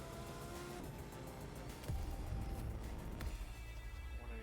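A supercar engine in a racing video game, a continuous faint engine drone that rises into a louder revving surge partway through, with a brief squeal-like sweep.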